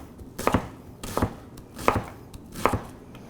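A Blue Key World chef's knife cuts through a big onion on a cutting board, four distinct, evenly spaced chops with crisp blade-on-board knocks, close and clear, no speech.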